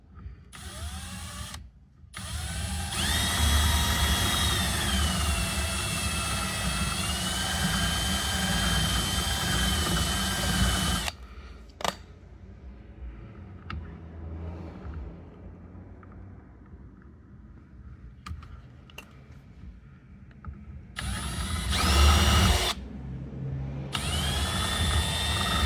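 Power drill boring a hole for fitting a carbon fiber front spoiler lip on a Lexus IS500, a steady loud whirring run that stops, then a quieter stretch and a second short drilling burst near the end.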